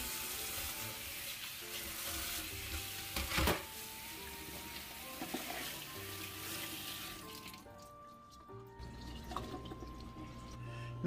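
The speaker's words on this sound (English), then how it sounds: "And you wanna wash your vegetable at all times." Vegetables are rinsed under a running kitchen tap, a steady close rush of water into the sink with brief splashes, which cuts off near the end, leaving quieter drips and handling noises.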